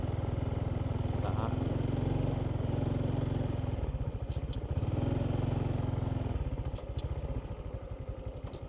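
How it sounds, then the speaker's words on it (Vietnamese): A motorbike is ridden along a rural road through flooded fields, its engine chugging steadily up close and easing off mid-ride, while someone talks over the sound. "Đây mình chạy xe máy tới nơi luôn nè cô chú."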